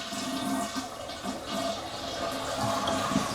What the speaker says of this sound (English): Maybe I should flush it.